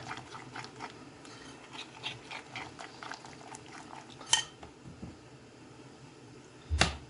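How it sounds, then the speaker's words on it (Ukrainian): Water bubbles and simmers steadily in a pot for dumplings (halushky), a soft continuous burble with a couple of sharp clinks of cookware near the end. "Вже водичка кипить"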